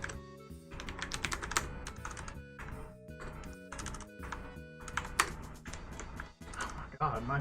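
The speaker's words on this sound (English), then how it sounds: "God, my typing." Rapid bursts of clattering keystrokes on a computer keyboard, uneven in rhythm and close up, with someone talking over the typing.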